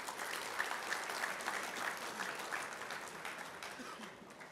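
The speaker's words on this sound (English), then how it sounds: "give yourself a round of applause just for making it to the national championship" Audience at a collegiate bass fishing national championship gives a steady round of applause, even dense clapping from a crowd heard at moderate distance, sustained throughout without talk.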